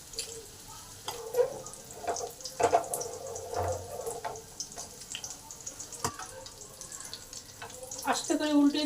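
Lentil and pointed gourd fritters shallow-fry in hot oil in a kadai, giving a soft sizzle broken by scattered clinks and scraping taps of a utensil.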